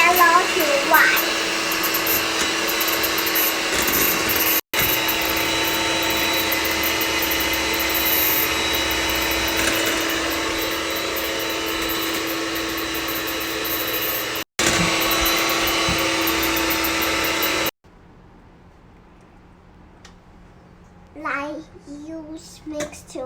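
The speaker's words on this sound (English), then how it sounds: "use this hand mixer to mix 1 minute, more 1 minute" An electric hand mixer beats cupcake batter with a loud, steady whirring drone, cut off briefly twice, then stopping; afterwards the room goes quiet and a voice speaks briefly near the end.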